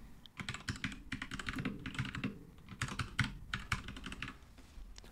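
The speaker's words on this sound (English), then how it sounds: "So let's start typing something here." Typing on a computer keyboard, fast irregular clicking keystrokes in close, quiet bursts with brief pauses, heard alone.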